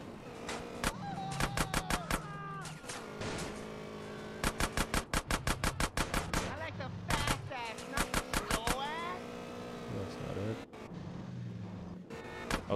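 Rapid bursts of video-game gunfire in GTA San Andreas Remastered, loud clustered shot volleys with short pauses between them, over game music and engine noise, with a player talking intermittently.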